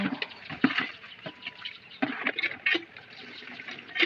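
Clothes being soaked in a tub of water for washing give off irregular splashing and sloshing bursts, close and moderately loud, with no one talking.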